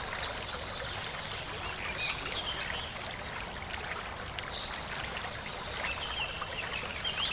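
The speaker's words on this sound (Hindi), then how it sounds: "सियार पानी में गिर जाता है और हाथ पैर मारने लगता है।" In a cartoon, a jackal falls into water and thrashes about, producing continuous close splashing and trickling water with no voices.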